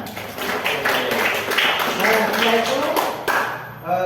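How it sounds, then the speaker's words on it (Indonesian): Classmates in an Islamic studies class clap their hands together, a steady patter of close claps with talk from the teacher over it, ending with a few sharper claps. "Tepuk tangan teman-teman."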